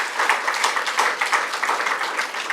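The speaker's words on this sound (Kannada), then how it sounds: "ಆ ತಾಳ್ಮೆ ಒಂದು ದೊಡ್ಡ ಚಪ್ಪಾಳೆ ತಟ್ಟಬೇಕು ನೀವು." An audience at a Kannada book event claps in a full, rhythmic burst of applause, many hands close and bright, swelling in uneven pulses throughout.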